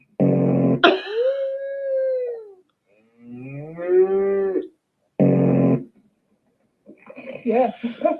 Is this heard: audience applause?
no